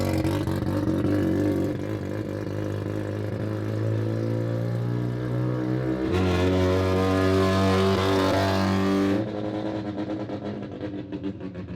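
A two-rotor rotary engine with semi-peripheral ports, fitted in a Corvette, drones loudly while driving, its pitch rising and falling through gear changes, with a raspy buzzing exhaust tone up close.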